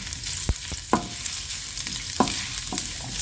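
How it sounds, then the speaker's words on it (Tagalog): Ginger sautés in a hot saucepan, a steady close hiss of frying with a few sharp utensil knocks and scrapes against the pan, no voices. "Gisa lang natin yung ating luya."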